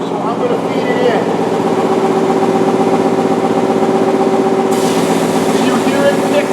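Timesaver sander surfacing a part, a steady loud mechanical hum with a strong sustained tone throughout and a brighter broadband rise near the end as the part feeds through, with talk over it.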